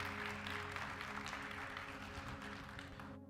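Church congregation applauding, a faint, even patter of clapping heard from a distance that holds steady for a few seconds and then cuts off abruptly.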